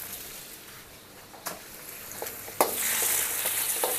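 An egg fries in a pan of hot oil for nasi goreng. A quiet, steady sizzle with light scraping gives way to a sudden louder burst of crackling spatter as the egg hits the oil, and it keeps sizzling strongly.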